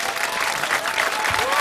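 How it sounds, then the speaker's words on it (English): A brief burst of dense, steady audience applause at a live interview event in Paris, clapping close and loud from start to finish. "Beaucoup d'applaudissements."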